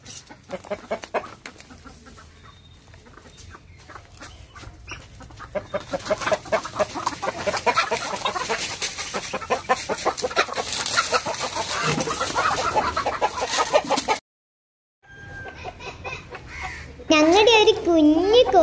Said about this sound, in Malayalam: നമ്മുടെ കോഴികൾ മണ്ണിന്റെ ഉള്ളിൽ ഇരിക്കണേ കണ്ടോ